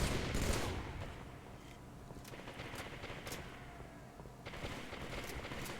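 Video game gunfire and grenades in Halo, heard as continuous dense rattling shots and muffled blasts that stay fairly steady and slightly distant throughout.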